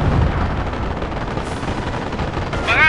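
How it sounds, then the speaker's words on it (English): Artillery barrage in Company of Heroes, with dense, continuous rumbling booms and crackling blasts filling the space loudly, a brighter whistling sweep rising near the end. "Barrage underway."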